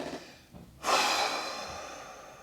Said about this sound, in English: begin to just take some deeper breaths